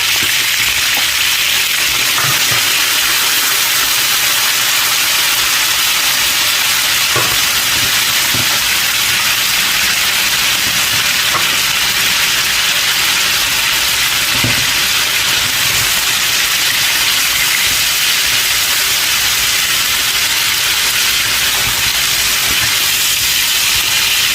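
Cuttlefish fries in a pan for a chicken fideuà, a loud, continuous close-up sizzle and hiss with scattered small pops and scrapes throughout, no talking.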